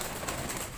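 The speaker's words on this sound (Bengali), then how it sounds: "আমাদের দুইটা সুন্দর পায়রা আছে, সাদা" A white pet pigeon gives a short, soft coo close by, a single brief murmur with no talking over it.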